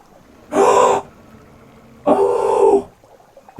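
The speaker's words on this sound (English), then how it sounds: "What's breathing?" Two slow, heavy breaths in the fishing game Dredge, each a raspy breathy swell lasting under a second, separated by a pause, eerie and close against near silence.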